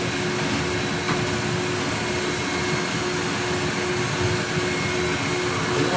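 Rotating dryer vent cleaning brush spinning inside a duct, a loud, steady whirring roar with a constant drone throughout and no speech.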